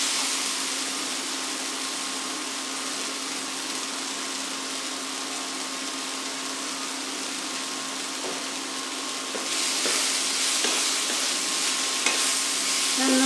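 Chilli soya is stirred and fried in a pan, giving a steady hiss of sizzling oil over a constant hum that grows louder and brighter partway through, with faint scraping stirs and no talk.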